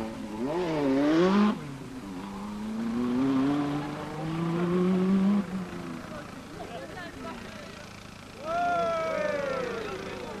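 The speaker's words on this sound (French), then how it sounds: "voici la 5 Turbo de Ragnotti, dont on va apprécier la diabolique agilité" A Renault 5 Turbo rally car runs a stage of the 1981 Monte-Carlo Rally, its engine revving up and down in rising and falling pitch, passing fairly close, while a commentator talks over it.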